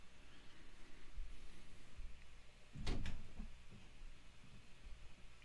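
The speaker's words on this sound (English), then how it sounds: "Sound like someone ran into the door." Someone bumps into a door, giving one dull thud with a short rattle, at moderate loudness over a quiet indoor background.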